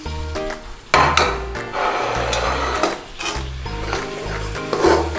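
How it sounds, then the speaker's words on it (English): Tomato puree and base gravy being stirred in a pan for chicken saag, a spoon scraping and sloshing through the thick sauce over a steady sizzle, with a few louder scrapes against the metal. "Give that a stir around."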